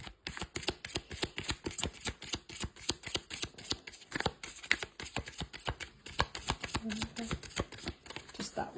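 Reading cards being shuffled, a rapid run of crisp riffling clicks and flutters that continues steadily throughout at close range with no talk.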